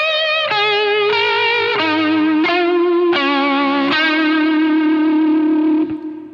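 Electric guitar lead lick, played slowly through distortion, chorus and echo effects: a string of sustained, bending notes changing every half second, loud and close, fading at the end.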